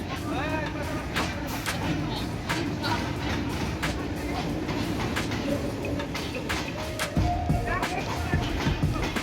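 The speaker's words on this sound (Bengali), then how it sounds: "সিলহাটি থেকে ছেড়ে আসা রাজশাহীগামী সাতশো চৌত্রিশ down Titumir express Panchbibi rail স্টেশনের এক নম্বর লুপ লাইন দিয়ে এই মুহূর্তে প্রবেশ করছে" The 734 Down Titumir Express, a passenger train pulled by a 6553-series locomotive, enters Panchbibi railway station on loop line one. A steady rumble and clatter run throughout, with someone talking over it.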